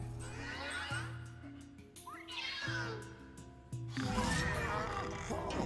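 Cartoonish cat meows and yowls from the video game Luigi's Mansion 3 rise and fall several times amid game sounds and effects, fairly loud, with a voice briefly audible.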